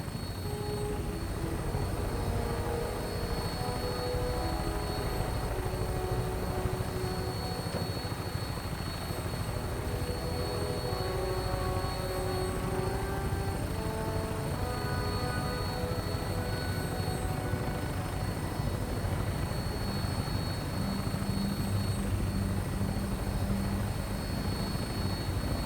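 The Prydwen airship from Fallout 4 hovering moored above an airport, a constant droning engine hum with whining tonal overtones, steady and unbroken throughout, with a faint voice near the end.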